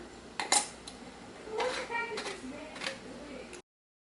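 A metal lid set onto a glass canning jar of tomatoes in a home kitchen, with soft rubbing and a few sharp clinks and clatters up close, then quieter fiddling, with faint talk mixed in.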